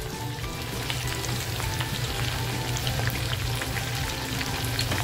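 Mixed vegetables for manchurian fry in hot oil with a steady, even crackle and sizzle, close and continuous, with a low hum beneath and no voices.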